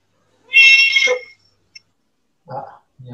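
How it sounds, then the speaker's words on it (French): A domestic cat meows loudly and insistently up close, a drawn-out complaining call followed by a pause and two shorter, lower meows in a quiet room. "il y a un chat qui râle"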